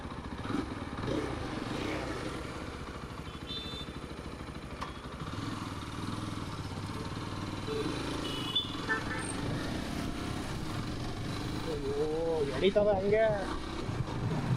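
A 2024 Yezdi Adventure motorcycle engine rumbles steadily with exhaust noise, rising toward the end, while a person talks over it.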